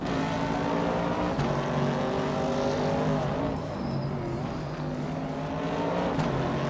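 Race cars roar around the Shanghai track in a racing video game, with a classic 1968 Dodge Dart among them; layered engine drones rise and fall continuously, loud and close, with no talking.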